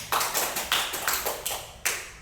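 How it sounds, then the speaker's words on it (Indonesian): A few people in a classroom clap for a student, a sparse, uneven series of about seven sharp claps spread over two seconds, close by and with no talk. "tepuk tangan untuk Mas Andra."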